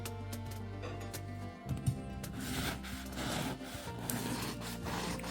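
A knife saws through a store-bought Easter cheese paska bread, making close, soft rasping strokes with a few crumbly rustles, quiet and steady over a few seconds without talking.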